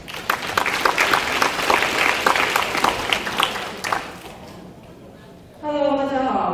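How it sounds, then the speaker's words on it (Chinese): An audience at a talk applauds, a dense, loud clatter of many clapping hands that fades out over about five seconds, followed by a voice beginning to speak. "让我们用最热烈的掌声邀请我们这个讲题的第一位讲者"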